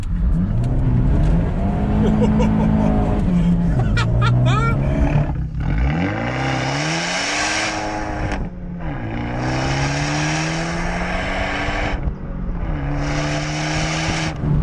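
An Abarth 124 Spider rally car drives hard, its engine loud and close as it revs and roars through repeated rising pulls separated by short lifts off the throttle.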